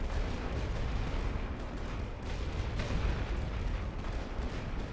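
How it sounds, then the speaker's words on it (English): Artillery fire on a World War I Western Front battlefield in a strategy game, a continuous rumbling barrage of deep booms and blasts blending into a dense, loud wall of low-end noise. "he's going to lead with his artillery"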